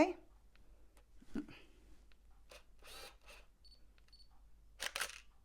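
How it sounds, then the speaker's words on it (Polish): Several sharp camera shutter clicks from a single-lens reflex camera, spaced irregularly and close by, with faint background rustle between them. "będziecie słyszeli e, dźwięk migawki"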